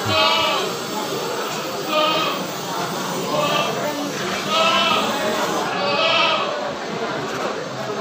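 Peranakan Etawa goats at a livestock contest at a market bleat in repeated wavering calls, several overlapping at close range, amid continuous crowd chatter and background noise.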